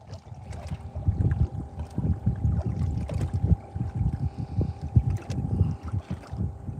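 Gusty wind buffets a fishing boat on Lake Kissimmee while crappie fishing. Rough, uneven low rushing comes close to the microphone, with choppy water slapping in soft irregular bursts.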